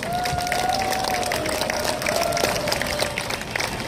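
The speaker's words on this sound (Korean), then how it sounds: "여러분 박수로 맞이해 주시기 바랍니다" Crowd applause welcomes the opening of a history gathering, a steady, fairly loud wash of clapping with a sustained tone running beneath it.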